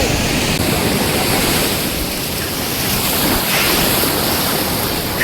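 Sea waves at Gopalpur beach, a loud, continuous surf roar with rolling swells and some wind noise, no voices.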